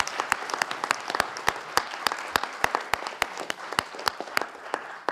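A room of spectators applauds debaters at a high-school eloquence and debate competition, with sharp individual claps standing out over a dense, steady patter of hands and no talking.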